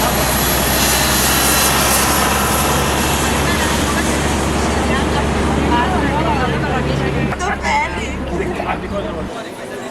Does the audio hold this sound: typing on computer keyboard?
no